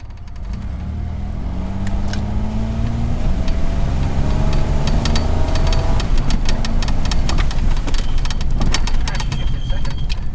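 1976 Ford Capri Ghia engine running as the car moves off in first gear, a close, steady engine hum that rises in pitch as it pulls, with clicks and rattles over the top.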